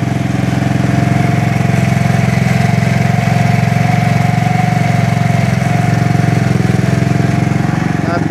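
A big bore GY6 150cc scooter engine idles in a steady, close, continuous drone with an even, unbroken rumble throughout.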